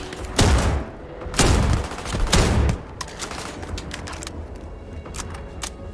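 A shotgun rifle fires in Starfield, three loud, close blasts about a second apart, followed by quieter distant gunfire and mechanical clatter.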